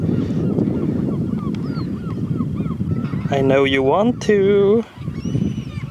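A goose-like bird gives a couple of loud, nasal honking calls outdoors beside a skateboarding spot, over constant rumbling background noise, with a person speaking briefly.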